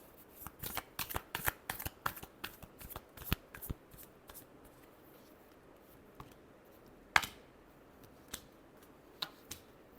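Tarot cards shuffled by hand in a quick run of crisp riffling flicks, then sparser single snaps and slaps, close and clear in a quiet room.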